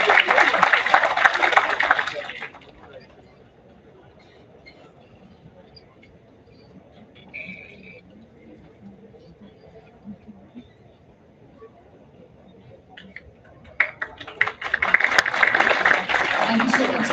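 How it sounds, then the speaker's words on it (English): Audience applause during a memento presentation at an institutional event, with a burst of clapping at the start, a quieter stretch with faint murmurs, then a second round of clapping near the end. "Let's have a huge round of applause for Sir."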